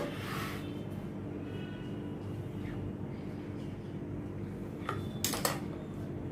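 A knife cuts rolled corn-flour dough into squares on a kitchen surface, with soft scraping and a few light clicks near the end over steady room noise.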